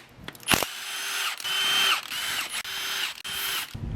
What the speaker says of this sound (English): Take off these bolts right here.